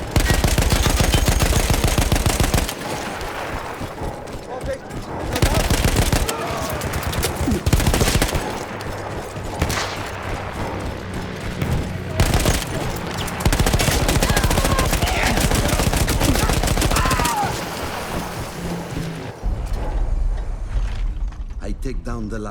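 Sustained machine gun fire in the Battlefield 1 video game, heard as long, loud, rapid mechanical bursts with short pauses between them, with a voice talking over parts of it.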